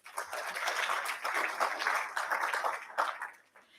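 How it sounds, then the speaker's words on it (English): An awards ceremony audience applauds steadily, with many hands clapping in a dense, even wash that keeps up before tapering off at the end. "Another round of applause."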